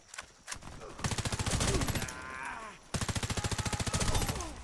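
Rapid bursts of gunfire in the video game Warface rattle in steady automatic rhythm, pausing briefly between volleys, loud and close.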